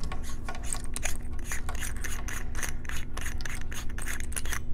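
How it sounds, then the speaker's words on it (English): Flight Gear rechargeable flashlight being unscrewed open, giving a steady run of soft, close rhythmic clicking and rubbing from the threads. "Then I can open up my flashlight."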